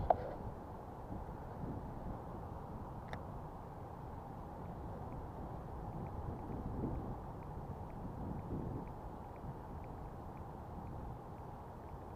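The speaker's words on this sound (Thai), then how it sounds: "ลมแรงมากครับ" Strong wind gusting outdoors beside a canal during a lure-fishing outing, a steady broadband roar buffeting the microphone throughout with no speech.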